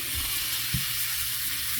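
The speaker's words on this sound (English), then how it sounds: "you can hear the crackle and" Steady, bright hiss of food frying in a pan, with a couple of low pops and crackles, close by and without speech.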